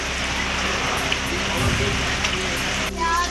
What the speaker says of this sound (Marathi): पालघरमध्ये मुसळधार पावसामुळे रस्ते पाण्याखाली